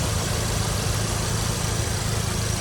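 A 2016 Audi S3 with AWE exhaust and APR software sits idling, its steady low engine drone loud and continuous, with no rev rise evident.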